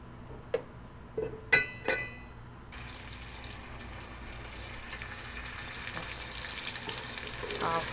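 Butter with peanut oil melts in a pan for butter pulao, a few sharp clinks of utensils first, then a steady soft sizzle that builds gradually with no talking.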